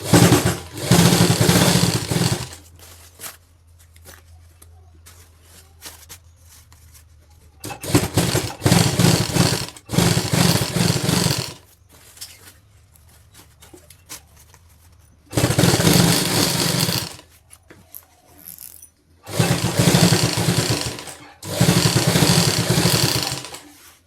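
A sewing machine stitches a zipper onto a jacket in loud, buzzing bursts of a few seconds each, separated by quiet pauses, close up with no talk.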